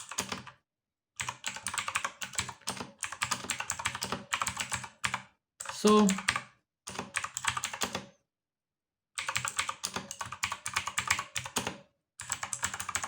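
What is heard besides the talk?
typing on mechanical keyboard, blue switches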